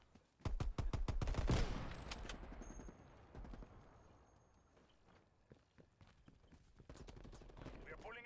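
Rapid bursts of gunfire ring out in a shooter video game during a sniper match, a dense volley of loud shots up front followed by quieter scattered shots and clatter.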